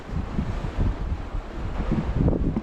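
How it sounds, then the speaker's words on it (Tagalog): Strong wind buffeting the microphone in heavy, irregular gusts, a loud low rumble with no voices. "Lakas ng hangin ano."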